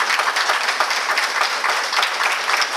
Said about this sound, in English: Let's give all of our honorees, please, another round of applause.